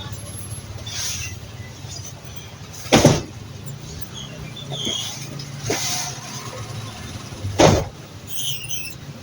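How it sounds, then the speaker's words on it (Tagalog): Street traffic rolls past with a steady low engine hum, and two louder car passes rush by a few seconds apart under faint background voices. "Traffic, traffic."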